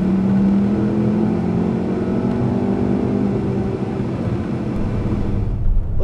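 A VW Turbo Beetle on boost gives a loud, sustained engine drone with rising tones as it pulls steadily, then dips near the end.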